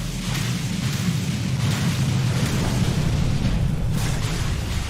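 A dense, sustained rumbling ion cannon explosion in Skyrim, heavy low-end roar and crackle holding steady for several seconds with no clear breaks.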